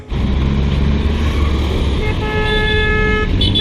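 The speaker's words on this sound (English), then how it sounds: "They even smile at you when they're honking at you." Colombo street traffic with tuk-tuks and cars, a loud sustained horn blast near at hand over rumbling engines, followed by a second higher-pitched honk layered in.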